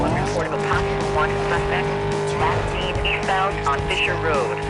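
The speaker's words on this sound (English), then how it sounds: "A bit of braking before that sharp bend." A car engine in Need for Speed: Most Wanted roars steadily with tire squeal as it brakes into a sharp bend, loud and continuous under someone talking.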